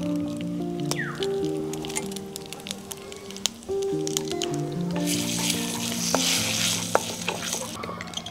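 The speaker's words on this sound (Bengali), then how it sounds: "এটার মধ্যে একটু সর্ষে ফোড়ন দিই।" Mustard seeds tempering in hot oil with dried red chilli for a Bengali dish, a steady bright sizzle and crackle running throughout beneath soft background music, with stirring scrapes.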